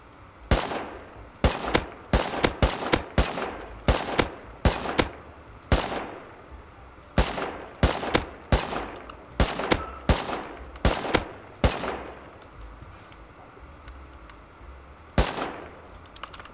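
Loud bursts of rapid gunfire in the video game Rust crack out in repeated volleys, some long strings and some short, with brief pauses between, close and sharp.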